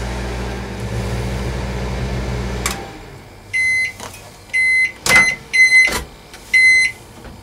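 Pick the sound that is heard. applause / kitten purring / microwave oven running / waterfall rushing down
microwave oven running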